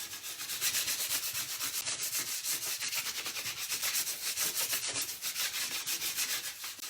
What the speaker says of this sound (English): now I'm going to use my handy dandy burnishing tool to burnish